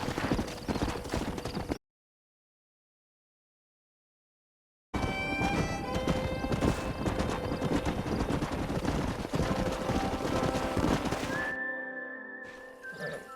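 Horses in the Red Dead Redemption video game gallop with rapid clip-clopping hooves, loud and close, broken by a silent gap and later a whinny near the end.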